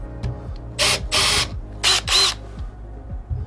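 A power drill bores a hole into the corner of a panel for a DIY outdoor kitchen build with stainless steel doors, sounding in two pairs of loud whirring bursts separated by brief pauses, with faint clicks between.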